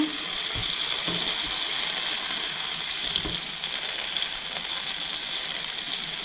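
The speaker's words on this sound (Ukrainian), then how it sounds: "Вкидаю сюди 30 грамів вершкового масла, розтоплюю його." A steady hiss of 30 grams of butter melting and sizzling in a hot pan, a constant crackling fry with a few soft clinks underneath.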